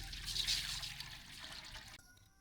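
Water pours steadily into a cooking pot for boiling shrimp, a close gushing splash that thins into a trickle before stopping abruptly, no speech.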